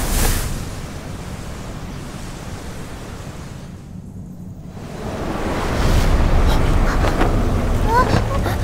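Roaring storm wind in an animated fantasy series, a broad continuous rush that drops away briefly to near silence, then surges back louder and denser, with voices faintly present in the mix.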